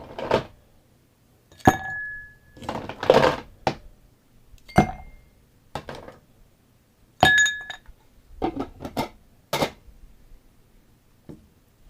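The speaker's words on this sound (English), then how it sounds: "take your shaker, add some ice, and add some ice to your glass too while you're at it." Ice cubes dropping into a cocktail shaker and a glass, a series of sharp bright clinks and clattering bursts spaced irregularly over several seconds with near silence between, close and loud.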